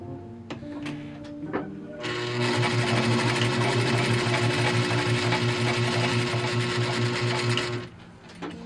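Sewing machine stitching fabric while converting a bra, a few soft clicks and taps, then about six seconds of rapid, even mechanical stitching close by before it stops, with no talking.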